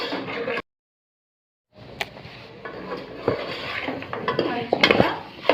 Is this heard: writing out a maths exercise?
no